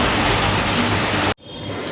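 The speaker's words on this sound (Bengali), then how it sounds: "দেখো ভালোই বৃষ্টি পড়ছে" Steady rain falling outdoors, a dense, loud hiss that drops out for an instant and then returns more softly.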